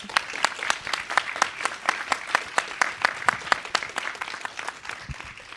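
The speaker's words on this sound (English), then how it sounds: "can we please give a final round of applause for Clark and our panelists tonight?" At the close of a panel discussion on North Carolina's waterfront, the audience applauds the panelists and Clark, a sparse, rhythmic run of distinct claps dominating, fairly close.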